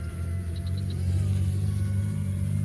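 A small toy drone flies at full speed, on its third speed setting, giving off a steady motor hum and rumble that rises slightly midway.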